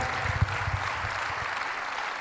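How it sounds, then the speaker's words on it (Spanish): A church congregation applauds during a Spanish-language Christian conference, a continuous wash of many hands clapping at steady moderate volume with a few louder individual claps near the start. "Usted le está aplaudiendo al Señor."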